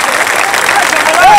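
Applause and cheering from a crowd at a Maharashtra election campaign rally held for a Shiv Sena and Maha Vikas Aghadi candidate, a dense steady roar of clapping that swells toward the end, with a faint whistle near the close.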